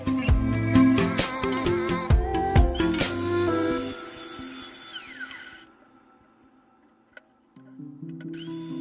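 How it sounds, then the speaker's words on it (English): A drill press bores holes in wood in a workshop, its motor whining loudly with rising and falling pitch during bursts, then spinning down into near quiet before starting up again. "Here I am drilling holes with a drill press."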